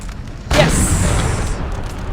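A single deep cannon boom with a rushing tail goes off loudly during a Napoleon Total War battle, with artillery and canister fire amid a background rumble.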